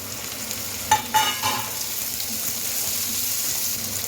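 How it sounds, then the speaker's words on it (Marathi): Tomatoes go into a hot frying pan and are stirred, bringing a few clattering scrapes followed by a steady, close sizzle with no talking. "चला आता टोमॅटो टाकून देऊया."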